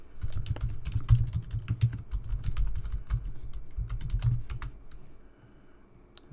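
Rapid, uneven keystrokes on a computer keyboard while an email address is entered at a Windows 10 account sign-in, close and clear, tapering off near the end with no talk.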